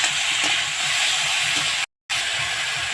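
Broccoli and ginger sauté in a pan with a steady, loud sizzling hiss that runs almost continuously, broken once by a brief silent gap.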